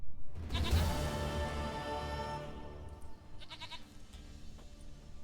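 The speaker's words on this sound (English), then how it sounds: "Goat of mine, dearest, sweetest goat." Goat bleating in The Witcher 3 game, a few bleats over a steady in-game music and ambience bed, moderately loud near the start and again briefly later.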